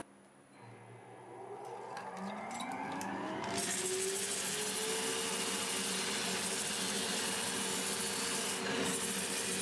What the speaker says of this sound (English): I'll see you when we're done sanding this.